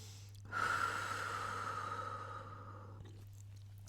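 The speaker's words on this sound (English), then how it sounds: "Take a breath here." A single long, deep breath during a gentle yoga stretch, drawn in and let out slowly over a couple of seconds. It is soft and close, with quiet around it.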